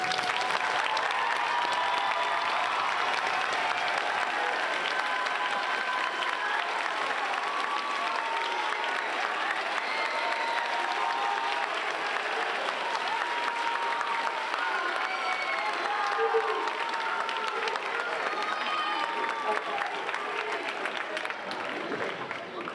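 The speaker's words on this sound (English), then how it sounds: "I'd like to have a big round of applause for all of the directors and instructors who are here" Long, steady applause from an indoor percussion championship awards audience, dense clapping sustained for over twenty seconds with some scattered voices mixed in, tapering slightly at the end.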